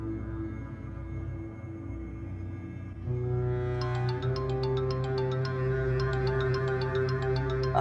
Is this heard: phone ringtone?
yes